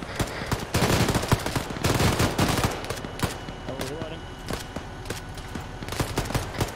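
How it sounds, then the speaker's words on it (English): Rapid gunfire cracks from behind a vehicle in an outdoor airsoft-style operation, with dense bursts early, then sparser single shots, while voices call out over the shooting. "Shots west, southwest! Behind the vehicle."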